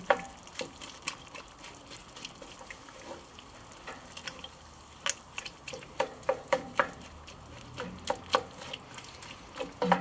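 Spoon stirring a pot of osso bucco braising liquid with rosemary and thyme, irregular wet clinks and scrapes against the pot over a low simmering bubble, close and fairly quiet.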